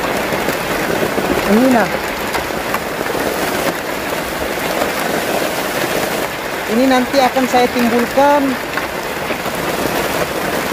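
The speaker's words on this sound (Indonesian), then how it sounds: "Hujannya masih cukup lumayan deras ini." Heavy rain pours steadily at sea around a floating shelter built from old plastic bottles, a dense, continuous hiss. Someone speaks over the downpour in short bursts.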